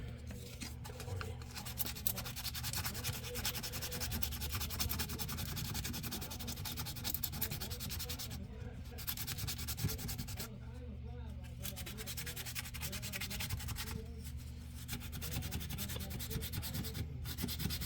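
Continuous sanding of a wooden fishing lure with roughly 200-grit sandpaper, a steady close scratchy rubbing that carries on for the whole stretch with only brief pauses.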